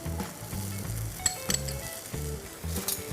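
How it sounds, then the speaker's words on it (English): Boiled potatoes and peas hit a hot tawa and sizzle, with short clinking scrapes of a utensil in a quick rhythm, close and fairly quiet, no voices. "to this I'm going to add in some boiled potatoes, some boiled peas."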